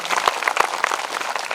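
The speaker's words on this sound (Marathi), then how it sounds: "दादा महाराजांकरता एकदा जोरात टाळ्या वाजून धन्यवाद" A short burst of audience applause at a devotional storytelling gathering, many hands clapping in a brisk crackling patter for under two seconds, moderately close and continuous.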